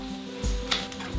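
Onion and pepper fry in a pan with a soft sizzle, broken by a few quick stirring scrapes and a light clink, close and fairly quiet with no speech.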